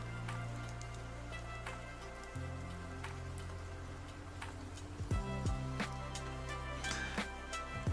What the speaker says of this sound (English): Wait, that's a rain BGM?